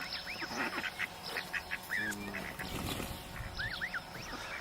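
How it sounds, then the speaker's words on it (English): Geese honk repeatedly in short, irregular calls alongside goslings at a nature reserve, fairly faint and outdoors, with no talking. "There's a couple of geese and goslings over here."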